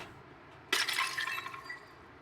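A cat knocks over a glass in the video game Stray, a single sharp shattering crash followed by a short scatter of tinkling fragments against a quiet backdrop.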